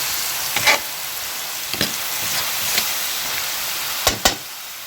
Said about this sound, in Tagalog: hayaan lang natin kumatas yung kamatis